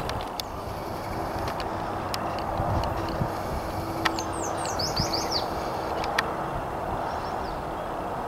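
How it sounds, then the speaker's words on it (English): Yellow warblers singing outdoors, with a brief cluster of faint, high, quick chirps in the distance over a steady background hum and scattered ticks. "I can just hear the yellow warblers all around"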